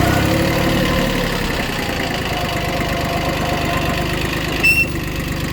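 An Iseki TU1500F four-wheel-drive mini tractor engine idles steadily and close, a continuous low mechanical rumble with a brief faint squeak near the end, no voices.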